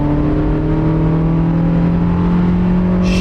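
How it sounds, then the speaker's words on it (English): A 2010 Hyundai Accent engine held at wide open throttle, a loud steady drone with strong harmonic lines running close and continuous for about three seconds, no talk. "Pedal to the plastic, boys. Wide open throttle mode."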